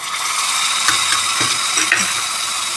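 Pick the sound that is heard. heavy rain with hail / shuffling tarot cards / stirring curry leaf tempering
stirring curry leaf tempering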